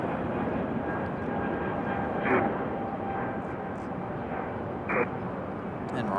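A de Havilland Beaver prop plane at Raleigh-Durham International Airport, a steady broad engine drone held throughout, fairly loud and constant, with brief faint chirps over it.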